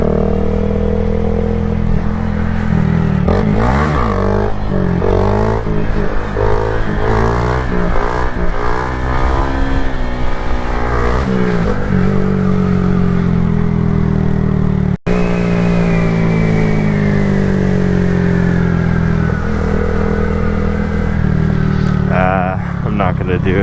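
A motorcycle engine revs loudly and close while riding, repeatedly climbing and dropping in pitch through gear changes, with a long sustained rising pull near the end.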